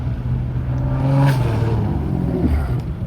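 A BMW M340i-type car engine hums steadily nearby with a slight rise in revs, like a vehicle rolling up and idling.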